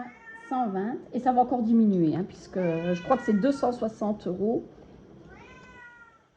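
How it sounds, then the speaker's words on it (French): A house cat meows in a long run of repeated, drawn-out calls in a home setting, loud and close, with someone talking over and between them. "Là, c'est mon chat."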